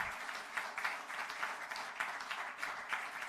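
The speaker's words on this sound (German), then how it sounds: "Großen Applaus." Applause from an audience greeting a MyAid Award 2020 winner, a steady dense patter of many hands clapping at moderate distance, continuous and even throughout with no voices over it.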